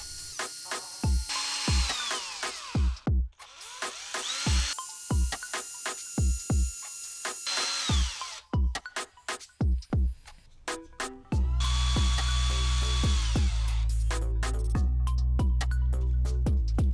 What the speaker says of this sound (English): I'll do that by using a drill and some bits to get the right fitment.